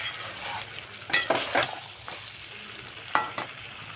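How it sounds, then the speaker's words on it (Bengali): Chicken pieces being stir-fried in a pan for a home-style curry, a low sizzle underneath with several sharp scraping strokes of a spatula, two clustered bursts, no voices. "ভালো করে এবার কষিয়ে নেব।"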